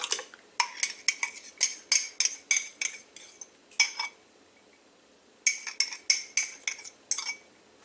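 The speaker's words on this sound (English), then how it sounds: "I'm just going to use this to beat my eggs" Eggs are beaten with a 1 cup measuring cup in a bowl, making quick bursts of clinking and tapping strokes in fast rhythmic runs with a short pause midway, close and alone.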